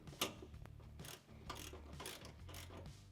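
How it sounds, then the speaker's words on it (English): A socket wrench tightens an M14 flange bolt with a 21mm socket on a RAM truck during a reverse light upgrade, giving quiet, evenly spaced ratcheting clicks up close. "we will tighten this M14 flange bolt with a"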